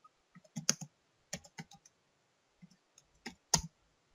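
Computer keyboard keys tapped while typing a message into Robocraft game chat: short, close clusters of crisp clicks separated by pauses, with no talking.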